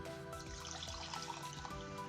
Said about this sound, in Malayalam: 1 കപ്പ് വാട്ടർ ഒഴിച്ചു കൊടുക്കണം.